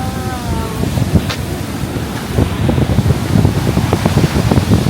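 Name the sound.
waterfall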